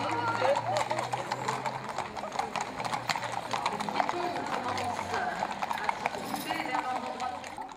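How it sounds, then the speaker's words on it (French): Hooves of horses, ponies and donkeys clip-clop on the streets of Lamballe during the Mille Sabots parade. A dense, continuous patter of many hoofbeats plays under a voice talking, with an occasional whinny. "environ 250 chevaux, poneys et ânes font résonner le sol de la ville de Lamballe"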